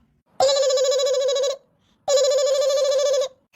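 A telephone rings twice in a quiet room, two long electronic trills about a second each separated by a short silence, clear and close.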